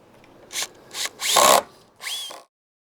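A power drill drives screws into wood on a storage building project in four quick, close bursts, the third longest, each whine rising briefly before stopping.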